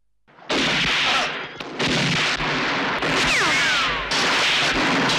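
Gunfire from a film shootout between travelers and a gang of local bandits, loud dense volleys of shots with ricochet whines, sustained and close with only a brief pause, no talk.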